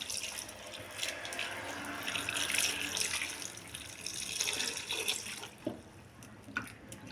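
Potatoes are washed under a running kitchen tap, with a steady rush of water and splashing that carries on for several seconds and eases near the end, broken by a few brief clunks.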